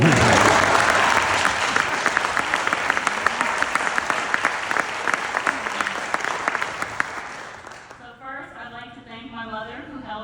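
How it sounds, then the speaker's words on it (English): Audience at a Virginia House of Delegates swearing-in ceremony applauds loudly and steadily, with a few cheers mixed in, then the clapping fades out and a speaker begins talking near the end. "You can clap."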